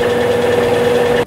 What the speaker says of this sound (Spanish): corresponde al movimiento del agitador al momento de exprimir la ropa.